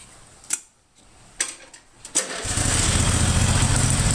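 A riding lawn mower, a Peerless 820, cranks with a few short starter bursts, then catches and settles into a loud, steady engine run close by.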